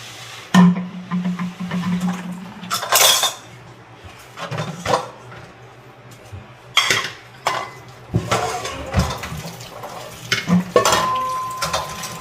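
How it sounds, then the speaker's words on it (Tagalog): Dishes are washed by hand at a campsite, with plates and cutlery clinking and clattering in irregular bursts over a soft wet background, loud and close, with no talking. "Hugas tayo pinggan."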